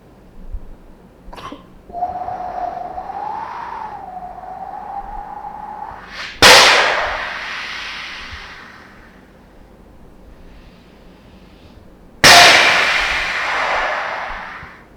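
A human voice imitates thunder and lightning: a thin sustained whistling tone, then two sudden loud crackling bursts that roll away and fade.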